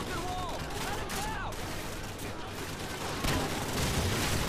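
Gunfire from the video game Call of Duty: Modern Warfare, dense and continuous over a busy game soundscape, with bursts and sweeping tonal effects, growing louder near the end.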